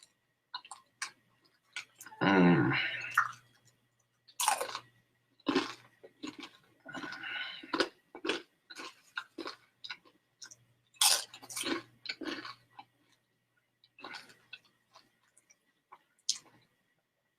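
Crunchy chewing of nacho cheese Doritos topped with bacon, loud close-up bites and crunches in irregular bursts separated by short pauses, with no talking.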